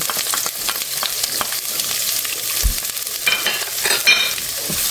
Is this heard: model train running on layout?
no